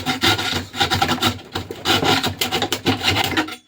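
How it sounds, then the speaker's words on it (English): A handsaw cuts through wood while building a street spot, in steady rasping back-and-forth strokes that are close and loud, with a brief stall near the middle where the blade binds before sawing resumes. "Even the handsaws binding up."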